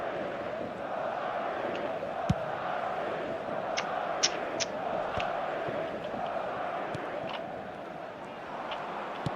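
Stadium crowd in the eFootball 2026 video game, a steady roar of massed fans at a distance with occasional sharp pops and whistles rising above it, continuous throughout.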